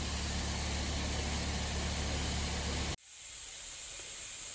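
A brake rotor turning on a brake lathe during resurfacing gives a loud, steady broadband hiss and grind with a low hum, which stops abruptly near the three-second mark, leaving a quieter machine hum.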